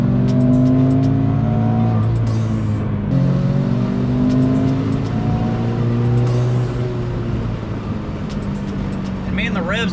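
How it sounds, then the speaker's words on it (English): A turbocharged Toyota GT86 engine revs hard under acceleration, a loud, continuous rising drone with several climbing pitch sweeps, heard close from inside the car while a person talks over it. "And man, the revs just keep going."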